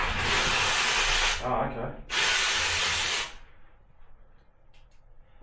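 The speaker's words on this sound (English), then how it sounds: "the steam, is coming out of here" A McCulloch MC1385 steamer releasing steam with a loud, strong hiss in two long bursts and a short break between them, then a quieter tail, with a brief spoken remark near the end.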